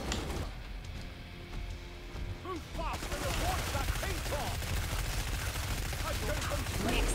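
Team gunfire in Killing Floor 2, dense bursts of shots layered over one another and continuing steadily, with sharper crackling bursts after the first few seconds and no voices.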